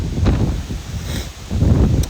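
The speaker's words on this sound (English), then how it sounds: "It's very windy." Strong wind blows through a garden in loud gusting bursts of rushing air and rustling leaves, dipping briefly in the middle before rising again.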